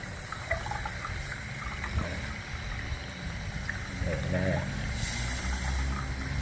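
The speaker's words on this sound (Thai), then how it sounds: "เทน้ำลงไปนะครับ ในรูนะฮะ อันนี้ตะกันก็จะ ไหลออกมานะครับ" Water trickles and gurgles as it is poured into the filler hole of a tilted steam iron to flush out scale, a steady liquid flow against a background hum, with someone speaking quietly over it.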